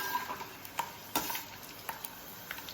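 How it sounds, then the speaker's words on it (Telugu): Garlic, dried red chillies and cumin fry in hot oil, a soft steady sizzle broken by scattered light clicks and taps of a utensil against the pan, quiet and close with no talking. "అదే ఆయిల్లో మనం ఎల్లిపాయలు, ఎండుమిర్చి, జీలకర్ర వేసుకొని కొంచెం ఫ్రై అవ్వాలి."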